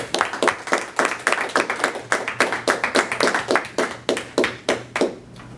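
Audience applause welcoming a speaker to the front of a meeting room: steady, dense clapping from many hands that runs the whole time, fairly close and lively, with no talking over it.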